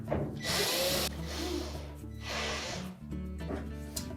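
A power drill driving screws into the back panel of a GE washer, close and loud, in two or three whirring bursts with brief pauses between them.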